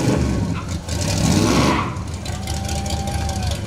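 A 1969 Chevy Nova with a 454 V8 revs loudly at a community fair parade, a broad engine roar swelling and holding before settling into a steadier rumble amid outdoor crowd noise.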